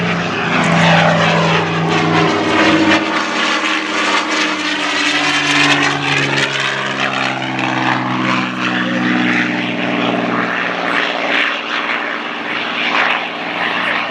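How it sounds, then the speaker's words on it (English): A P-51 Mustang propeller fighter at an airshow roars loud and close through its takeoff run and roll, a steady throbbing piston-engine drone with strong low harmonics that swells slightly mid-pass and holds without pause. "Let's watch the P-51. Listen to it as Lee Louderback, the highest time Mustang pilot in the world, takes off and rolls his Mustang"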